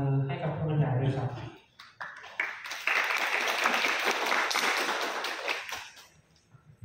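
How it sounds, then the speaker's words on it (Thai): Someone speaks briefly, then a seminar audience breaks into steady applause for a presenter that swells and fades after a few seconds. "ขอเสียงปรบมือให้กับผู้บรรยายด้วยครับ"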